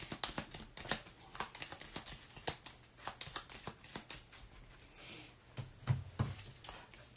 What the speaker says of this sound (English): Then we shuffle up this AI deck, which is effectively its health.